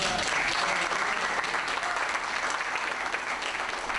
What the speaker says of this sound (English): Let's give Ted Kirkland a great hand clap.